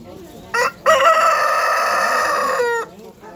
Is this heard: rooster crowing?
yes